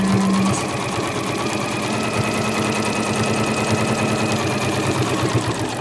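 A sewing machine runs a straight stitch with a normal stitch length and a universal needle, giving a fast, steady mechanical rattle that stays loud and even throughout.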